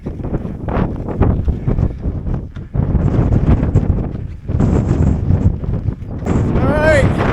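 Strong gusting wind buffets the microphone on a desert mountain top in California, loud and continuous, with a brief lull near the middle and a whistling tone near the end.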